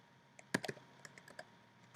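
Keys clicking on a computer keyboard at a desk, a quick flurry of several close, crisp taps followed by a few scattered lighter keystrokes.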